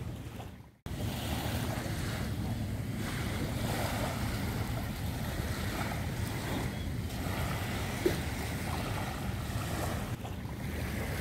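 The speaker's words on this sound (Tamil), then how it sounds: "அது பக்கத்தில் இப்படி ஒரு அழகான ஒரு கடற்கரை நான் காட்டுறேன்" Waves wash steadily onto the beach at Punggol Waterway Point, producing a continuous broad roar mixed with wind rumble on the microphone. There is one brief dip near the start, and no one speaks.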